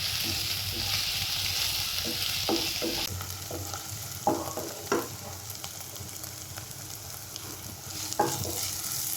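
Shallots, ginger and garlic frying in a pan for chicken kondattam, with a steady close sizzle broken by a few distinct spoon scrapes as they are stirred.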